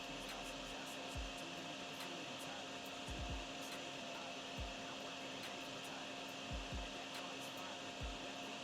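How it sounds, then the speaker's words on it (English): A steady whirring drone from a drain-cleaning vacuum in the video game DrainSim works on a single drain at a roadside convenience store lot, with soft low thumps recurring every second or two beneath the even hum. "We do a quick vacuum job right here and see if we can get this to finish."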